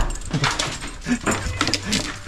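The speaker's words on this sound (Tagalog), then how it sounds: "Unang lalabas na aso, papasyal natin." A dog being let outside for a walk on a cold day in Edmonton, Alberta, giving soft whimpers and eager little yips up close, along with some clattering movement and nearby talking.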